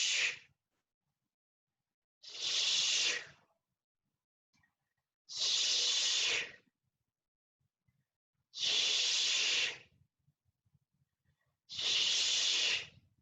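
Breathing during a Pilates leg stretching exercise: five strong, hissing exhalations in an even rhythm about every two seconds, close and loud, with near silence between breaths.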